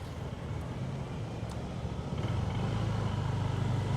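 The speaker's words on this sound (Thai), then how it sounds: "รถติด" Steady road noise from a festival traffic jam near a temple during the end-of-Buddhist-Lent celebrations in Laos, with car and motorcycle engines humming and revving nearby, continuous and moderately loud.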